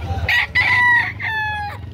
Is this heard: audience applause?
no